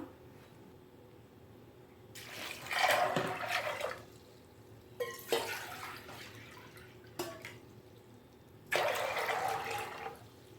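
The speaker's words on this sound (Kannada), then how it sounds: "ಇದ್ರ 3 ಪಟ್ಟು ನೀರು ಹಾಕೋತೀನಿ ಈಗ ನಾನು." Water is poured into a pressure cooker holding kidney beans for rajma masala, arriving in three separate gushing pours with quiet gaps between them, close and moderately loud.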